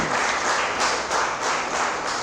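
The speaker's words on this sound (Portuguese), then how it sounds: "Vamos aplaudir nosso Deus" A church congregation applauds together in a steady, dense wash of clapping that fills the space and swells slightly in waves, with no voices standing out.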